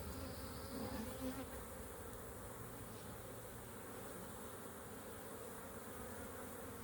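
Honeybees buzzing steadily around an open hive during an inspection, a faint, continuous droning hum with no talk.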